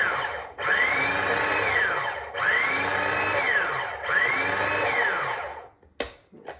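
A small food processor pulses cauliflower into rice. Three loud whirring bursts of the motor and blade, each lasting over a second, are separated by short stops. A small clack follows at the end.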